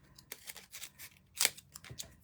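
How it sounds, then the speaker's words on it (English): Scissors snip a thin paper strip for a handmade card: a few crisp, close cuts in quick succession, with no voices. "Let's cut it a little bit thinner."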